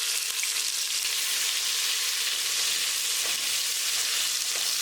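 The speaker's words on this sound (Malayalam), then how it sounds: "ആ പകുതി സവാള ഇതിലേക്ക് ഇട്ട് കൊടുക്കാം." Half a sliced onion sizzles in hot oil in a pot for chicken biryani, a steady, close, loud frying hiss that runs unbroken throughout with no talking.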